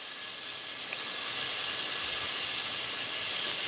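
Cut bacon crisping in a frying pan for a keto recipe, a steady loud sizzle and hiss that holds for several seconds with no talk.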